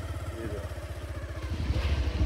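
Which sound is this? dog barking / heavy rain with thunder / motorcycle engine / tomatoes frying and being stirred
motorcycle engine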